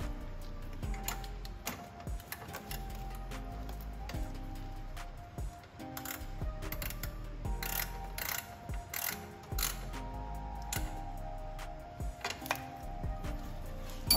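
Ratchet wrench clicking as a 12mm nut is snugged onto a rubber isolator mount during a PRL intake install on a 2020 Honda Civic Si 1.5T, with rapid repeated clicks and mechanical rattling throughout.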